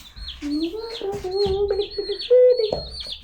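Small chicks peep over and over, close and shrill in an uneven rhythm, with soft voices faintly in the background.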